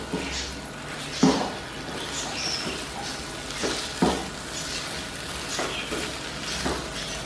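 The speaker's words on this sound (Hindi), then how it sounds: "देखिए इस पर मसाला अच्छे से कोट होने लगा है, इसी तरह से हम इसे फ्राई कर लेना" Chicken 65 pieces sizzle steadily in a masala coating over a high flame, broadband frying hiss filling the scene, with a few sharp stirring scrapes and clacks from the pan at irregular moments.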